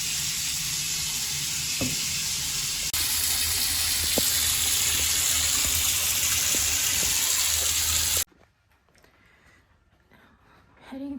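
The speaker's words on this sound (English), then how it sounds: "Pull down to activate pan shower." Water runs steadily from a pull-down shower into a vintage-style hotel bathtub, a loud continuous hiss lasting about eight seconds before cutting off abruptly to near silence.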